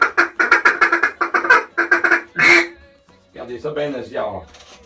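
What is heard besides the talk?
duck return calls, territorial duck cries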